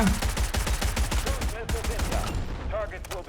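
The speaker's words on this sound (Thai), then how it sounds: "กระสุนมันต้องอย่างนี้ ยิงอย่างบ้าคลั่งก็อย่างที่เห็น" Rapid gunfire in the video game Delta Force Hawk Ops, a dense run of quick loud shots in a steady burst that trails off near the end, with a voice talking briefly underneath.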